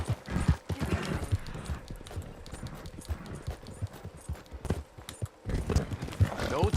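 Horse hooves clop rhythmically and irregularly in the Red Dead Redemption 2 video game, close and fairly loud, with a person's voice talking intermittently over the steps.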